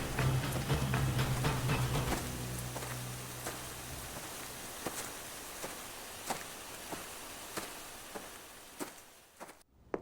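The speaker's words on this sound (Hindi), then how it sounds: "जोरदार बारिश होने लगी।" Rain patters steadily with scattered louder drops striking a surface; a low hum fades early on, then the rain continues alone before cutting off.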